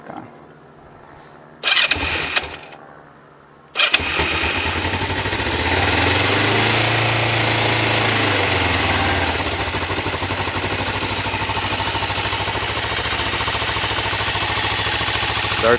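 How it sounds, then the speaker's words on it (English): A cold Kawasaki Ninja 500 motorcycle with the choke on cranks over twice in brief bursts, then catches and settles into a loud, steady idle that rises and falls slightly as it warms. "let's start her up, see what she sounds like"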